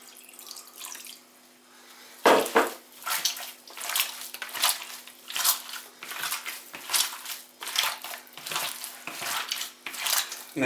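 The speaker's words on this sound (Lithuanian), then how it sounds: "Dabar maišant į mėsą dar pilam vandens." Water being poured into minced meat while it is mixed by hand for homemade sausage, giving wet squelching, slapping and splashing pulses in a steady rhythm, close and fairly loud, with no talk.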